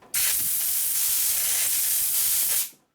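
Compressed air hisses steadily from a safety air nozzle in a motorcycle workshop for about two and a half seconds. It is loud, broadband and close, starting abruptly and then trailing off, with no talking.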